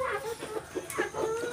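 Small chickens on a farm giving a run of rhythmic clucks, close and fairly clear against low background noise, with no one talking.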